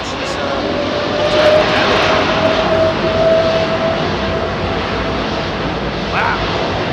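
An Airbus A380 jet landing on runway 27R at London Heathrow, heard as a loud sustained engine roar close by that swells slightly midway and holds steady, with faint voices in the background.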